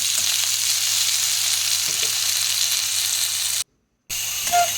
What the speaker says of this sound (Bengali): তো আমি এভাবে ঢাকা দিয়ে এটাকে ডাঁটা আর আলু ভেজে নেব।